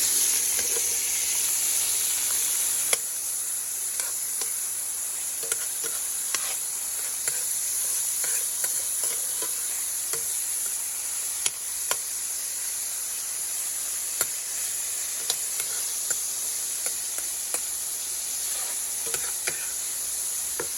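Food sizzles steadily on a patio grill, a constant hiss with scattered small pops and crackles running throughout, close and even in level with no talking.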